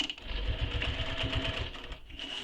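A sewing machine stitches steadily down the center of a pocket, a quiet rapid mechanical chatter with rhythmic thumping that pauses briefly before resuming.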